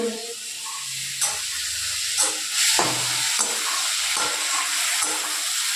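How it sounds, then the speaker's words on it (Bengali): Fish roe frying in a pan gives a steady, loud hiss and sizzle, with a few sharp spatters and soft stirring knocks throughout. "ভাজা ভাজা হয়ে এসছে।"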